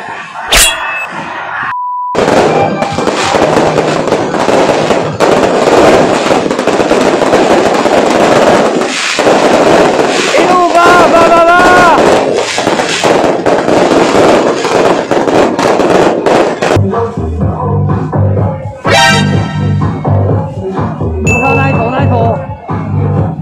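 More than a hundred boxes of firecrackers explode in a dense, continuous crackling barrage at a Taiwanese temple offering to the Tiger Lord, loud and close, with beeps and clanging near the end.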